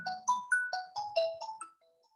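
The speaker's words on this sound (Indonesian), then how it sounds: "Aduh, ada telepon." A phone ringtone plays a quick melodic sequence of bright electronic tones, clear and close, then fades out with no talking.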